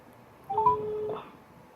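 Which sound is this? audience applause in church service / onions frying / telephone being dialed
telephone being dialed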